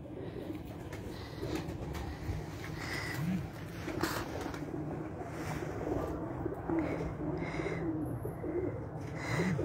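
Teddy pigeons cooing softly at close range, low repeated coos over a steady background hum with faint bird chirps scattered through.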